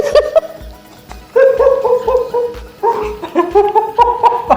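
A voice imitates a rooster crowing, with rising, strained vocal calls in several bursts and short pauses between them, close and loud, with laughter-like breaks.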